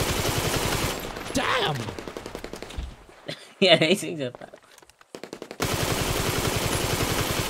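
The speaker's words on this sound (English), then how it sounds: "this is an SMG" Rapid SMG bursts in GTA V Online, a shootout at an old abandoned motel, crackling loud and near in short volleys, with a voice exclaiming briefly between shots.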